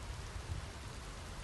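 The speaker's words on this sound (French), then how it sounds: "La voix de Ralph était à peine audible à travers le crépitement de la pluie nocturne" Steady nighttime rain pattering in a continuous soft hiss with a low rumbling undertone, even and unbroken, no voices present.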